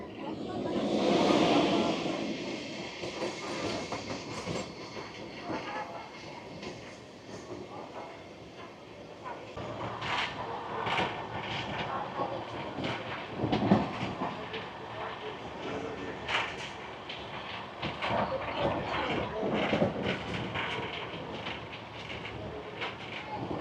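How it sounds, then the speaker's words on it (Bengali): The Kolkata–Balurghat Tebhaga Express (13161) runs at about 108 km/h on the Bardhaman line, a steady roaring rumble with rhythmic wheel clatter on the rails, heard close from on board. "কলকাতা বালুরঘাট তেভাগা এক্সপ্রেস বর্ধমান ফোর লাইনে 108-এর গতিতে চলছে।"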